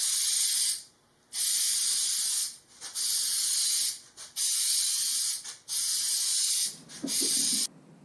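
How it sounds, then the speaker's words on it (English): Spray adhesive hissing onto a cargo van's wall panel during an upholstery job, in several long steady bursts separated by short pauses, loud and close. "Gonna spray the panel first"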